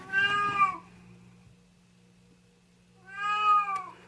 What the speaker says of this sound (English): I don't think there's a video that can be made without her meowing.